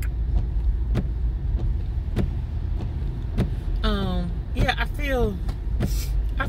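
A truck passes close by on the road, a steady engine rumble that swells and fades, with a few squeaky, whining sounds in the middle while a person talks over it.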